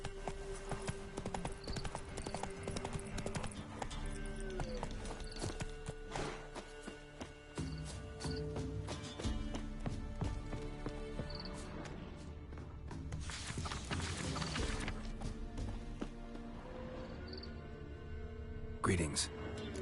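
A horse gallops along in The Witcher 3 video game, with steady rhythmic hoofbeats heard up close. Music and game voices play over it.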